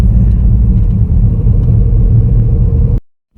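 A car rumbles steadily along the narrow Needles Highway through Custer State Park in the Black Hills of South Dakota, its loud, close engine drone holding for about three seconds before cutting off abruptly.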